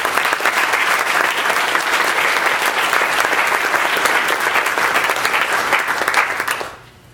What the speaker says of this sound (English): Round of applause back there, please.